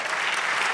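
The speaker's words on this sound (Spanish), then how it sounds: "Dele aplauso al Señor." A church congregation claps in a dense, loud burst of applause, sustained and even throughout.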